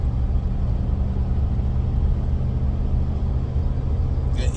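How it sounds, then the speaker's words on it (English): A truck rumbles by close at hand, a steady low engine drone and road roar holding level throughout with no voices. "I'm watching this truck"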